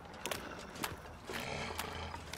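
A cougar roars in The Long Dark, a harsh, rasping snarl rising a few times over a low, steady wilderness ambience, fairly loud and close with no talk.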